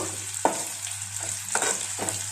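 Green gram frying in a pan gives a soft continuous sizzle, broken by several distinct stirring scrapes spaced about a second apart, close and moderately quiet.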